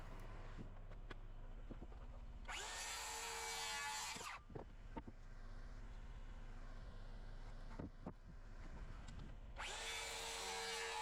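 A power saw cuts fly blocks from a scrap 2x6 on a roof framing job, in two loud, bright whining bursts separated by quieter job-site knocks and handling sounds.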